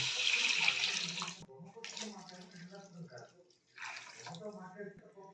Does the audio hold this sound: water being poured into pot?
yes